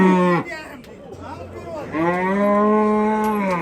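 A young calf at a busy livestock bazaar in Samarkand moos loudly and nearby in two drawn-out calls separated by a brief pause. Crowd chatter runs underneath.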